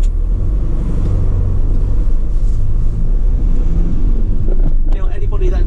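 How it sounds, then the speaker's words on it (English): A 2016 Mercedes Sprinter 313 fridge van's engine runs with a loud, steady low rumble close by, a voice speaking faintly over it. "let me get the engine started up"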